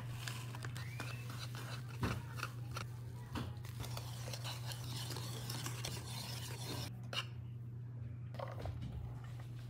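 Waffle batter being mixed by hand, producing continuous soft rasping and rubbing strokes with faint scraping in a bowl, steady and close, with a low background hum throughout.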